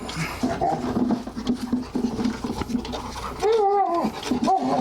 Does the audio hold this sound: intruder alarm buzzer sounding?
no